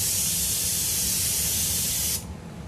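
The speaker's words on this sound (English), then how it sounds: "That's pretty much just spraying" Steady broadband hiss of an airbrush spraying paint for speckling, loud and continuous for about two seconds before cutting off abruptly, leaving faint low room noise.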